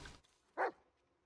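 A single short bark from a dog companion in the horror video game Blair Witch, sharp and mid-loud after a brief faint noise, then quiet.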